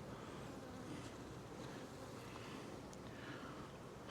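Honeybees buzz steadily and densely across hive frames loaded with honey, nectar and pollen, a soft continuous drone close by with no speech over it.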